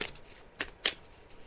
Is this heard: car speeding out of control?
no